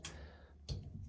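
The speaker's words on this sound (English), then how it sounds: "There, you can hear it clicking." A line lock switch in a car wiring kit clicks twice, with a sharp tick, a short gap, then another tick, close by and fairly quiet.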